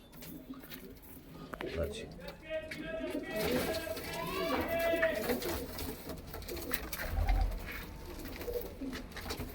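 Pigeons coo softly in the background while someone speaks over them, with faint rustling and handling noises, at a pigeon sale.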